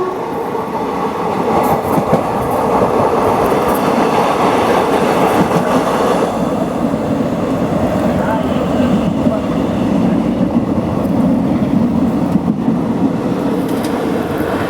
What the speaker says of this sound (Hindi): Crossing Manmad Nanded passenger.